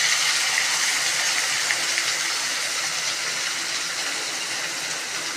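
Chopped onion hitting hot oil for Kathiyawadi bharthu (olo), giving a steady, loud, broadband sizzle that holds evenly throughout with no voices.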